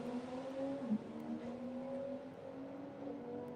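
A Toyota Supra race car from Osprey Performance accelerates down a drag strip at a test day, its engine giving a steady, fairly distant drone with sustained harmonic tones and no voices.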